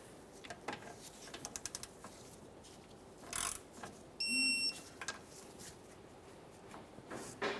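A ratchet clicks in quick short runs while bolts on a sway bar bushing of a 2011-2020 Toyota Sienna are tightened, with scattered metallic clanks and a brief tonal beep partway through, heard close and moderately quiet.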